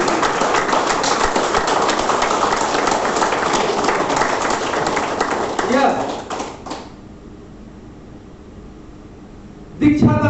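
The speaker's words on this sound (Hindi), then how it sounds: "जोरदार तालियां" Dense, loud clapping from a seminar audience fills the first six seconds, then stops abruptly, leaving a quiet room; a second short burst of claps starts near the end.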